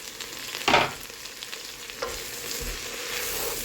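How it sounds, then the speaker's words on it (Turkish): Wild garlic is stirred into potatoes frying in a pan: a soft continuous sizzle with a sharp scraping stir near the start and a few quieter stirs later, no voices. "Hemen patateslerimin üstüne yaban sarımsağımı da ekliyorum."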